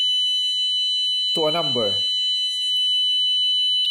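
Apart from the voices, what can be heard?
car plate tracker alarm system alarm sounding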